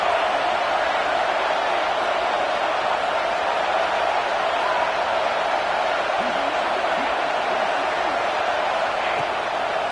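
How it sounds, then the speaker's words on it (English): Football stadium crowd roaring on a third down, a loud, sustained wash of massed cheering and noise that holds steady throughout, with a commentator talking over it. "Decibels rising as the crowd gets behind this defense on third down."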